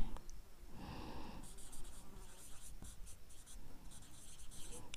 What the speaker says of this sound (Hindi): चलिए लिख देता हूँ